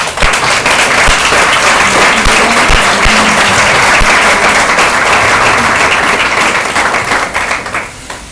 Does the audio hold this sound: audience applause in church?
yes